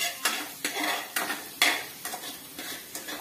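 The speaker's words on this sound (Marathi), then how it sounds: "तेलात कांदा भाजतोय चांगला." Onion frying in oil in a home kitchen, a continuous sizzle broken by regular scraping strokes of a spatula stirring the pan, close and fairly loud with no voices.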